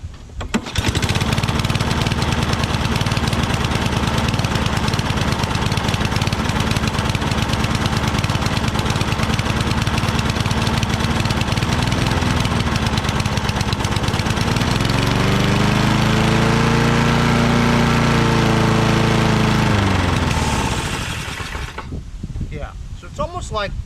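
A Toro Recycler self-propelled lawn mower with a Kohler XT675 engine and auto choke runs rough, a loud close steady drone with wavering, surging pitch for about twenty seconds before cutting off abruptly.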